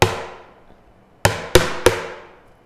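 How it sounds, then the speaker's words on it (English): Bucket drumming: one sharp hollow strike at the start, a pause, then three quick hits in a ta-ti-ti-ta rhythm, each loud and close with a short decaying ring. "Here's my bucket, big and strong, listen to my bucket song."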